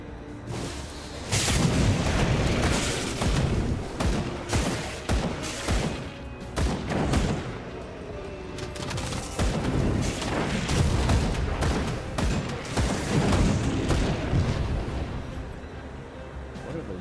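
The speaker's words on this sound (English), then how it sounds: "Explosions." Repeated heavy explosions and booming blasts from the action game Grim Dawn, played as a Pyromancer, roll on loudly and continuously with dense crackling impacts for most of the stretch.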